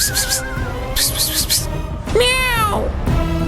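A cat meowing indoors in a household scene, with several loud, drawn-out wavering cries and a longer rising-falling meow, close and clear amid other voices.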